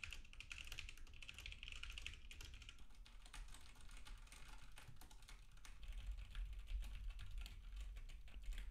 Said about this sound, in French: un test de frappe au clavier permet de tester la résistance au bruit-arax du microphone.